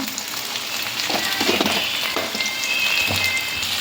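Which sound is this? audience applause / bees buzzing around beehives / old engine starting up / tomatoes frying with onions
tomatoes frying with onions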